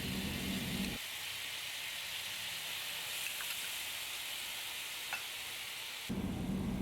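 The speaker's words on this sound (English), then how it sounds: "Once they have browned to your liking, turn down the heat and spoon the shoyu over them." Tofu slabs with shoyu spooned over them frying in a pan, giving a steady close hiss and sizzle that runs unbroken under low background noise.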